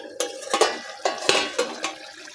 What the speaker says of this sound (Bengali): এটা আমি ঢাকনাটা খুলছি